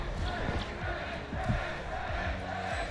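Spectators at a Valorant esports match cheer and chant in a dense, continuous roar, loud and steady from start to finish.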